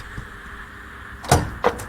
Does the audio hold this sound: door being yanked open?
yes